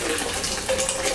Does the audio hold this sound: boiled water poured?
yes